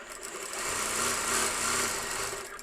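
A professional sewing machine runs steadily, a loud continuous whirring hum from a close source that swells slightly and holds without pauses.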